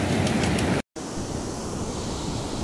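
Storm surge waves crash over the seawall and throw water onto a beachfront avenue in Mongaguá, a loud broad rush broken by a brief dropout, then steady wash and spray.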